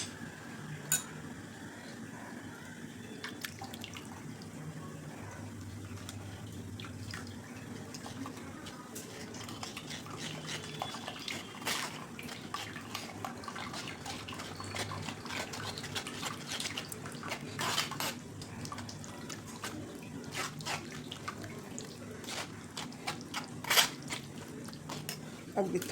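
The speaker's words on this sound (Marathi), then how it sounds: "यामध्ये आता चिंच गाळून घ्यायची." Tamarind pulp squeezed and strained by hand in a kitchen while making chutney for ragda pattice, giving steady wet squelching and dripping with occasional clinks of utensils, continuous and close for about half a minute.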